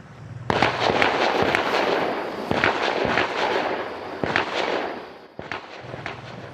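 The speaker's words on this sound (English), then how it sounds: "They even deployed stun grenades." Police stun grenades detonate during an overnight standoff at a home, with a rapid series of sharp, echoing bangs of varying loudness heard from a distance over steady background rumble.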